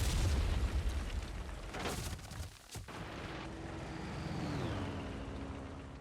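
A Panzer IV tank burning and exploding in the IL-2 Great Battles World War II flight game, a heavy rumbling boom and roar that dips briefly before a sustained fire-and-engine drone carries on, with no talk.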